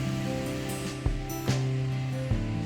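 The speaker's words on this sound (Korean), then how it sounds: "폭포 소리와 함께 폭포수가 시원하게 흘러내려서 장관을 이루고 있습니다." An artificial waterfall in a park pours steadily, a broad continuous rush of falling water with a few brief louder splashes, heard alone with no voices.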